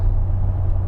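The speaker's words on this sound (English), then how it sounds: "We're just going down a straight road, just cruising the speed limit." A lifted 2024 L5P diesel pickup on 40-inch tires cruises steadily down a straight road, giving a loud, constant low engine and tire drone from inside the cab.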